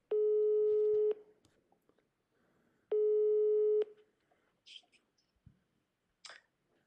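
A phone line beeps while a call is placed: two long, steady tones separated by a pause, followed by faint clicks and short noises, quiet and close.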